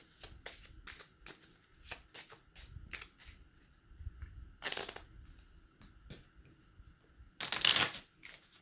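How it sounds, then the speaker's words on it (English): Playing cards are shuffled in quick riffling bursts and soft slides, close up and quiet, ending with one louder, longer riffle. "Do a little shuffle right here and get our 6th one."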